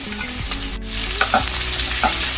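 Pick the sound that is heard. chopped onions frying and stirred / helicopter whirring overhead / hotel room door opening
chopped onions frying and stirred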